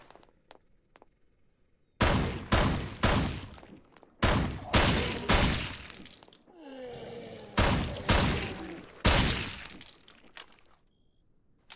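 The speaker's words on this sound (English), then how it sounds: "And that is the shotgun" Shotgun fire in the video game Night of the Dead: two loud volleys of sharp, closely spaced blasts, separated by a short whooshing lull, with no talking.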